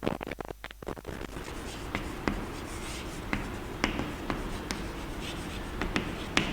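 Writing on a board during a biology lesson, with quick scratchy strokes and taps in short bursts, close and moderately loud, with no talk over them.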